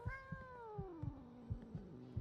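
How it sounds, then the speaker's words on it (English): An angry cat in the video game Fallout 4 gives a long, drawn-out meow that slides downward over about two seconds. Soft, regular thumps run beneath it, and no one speaks. "Ooh, a little angry kitty there."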